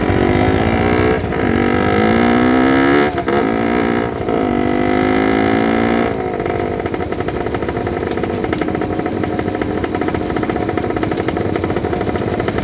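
A vehicle engine runs with no exhaust silencer, giving a loud, raw, continuous drone close by. Its pitch climbs several times as it revs, then it settles into a steady, rough rumble.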